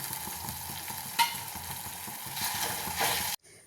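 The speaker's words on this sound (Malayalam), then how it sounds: "കഴുകി വെച്ച ഉണക്കമീൻ അതിലേക്ക് ഇട്ട് കൊടുക്കുക" Washed dried fish goes into a pan of curry mixture and fries with a steady, close sizzle and stirring, with one sharper clink partway through, then stops abruptly at the end.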